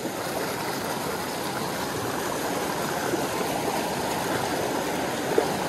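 A mountain river rushes steadily close by, a dense even roar of flowing water with no pauses and no voices.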